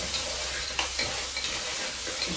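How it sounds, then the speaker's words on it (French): Crab cooking in a pan with translucent onions, giving a steady soft sizzle with light stirring scrapes, alone and fairly quiet. "je vais cuire le crabe"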